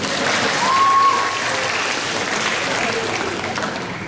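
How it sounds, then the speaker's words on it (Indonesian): Applause from a church Christmas gathering's audience for a man's wife, a steady broadband clatter that swells in the first second and then holds evenly, with a brief tonal whistle-like streak near the start. "Luar biasa, ini tepuk tangan untuk dia."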